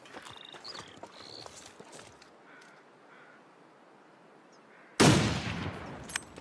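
A single loud gunshot in The Long Dark, cracking suddenly after quiet ambient stillness with faint bird-like calls, then a short decaying echo.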